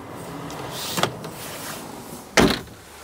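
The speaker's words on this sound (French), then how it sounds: "Elle est équipée d'une moustiquaire." A mosquito screen slides across the entrance door of a Benimar Tessoro 483 Nordic camper van at a show, making two brief separate rasping swishes, the second louder, over quiet room noise.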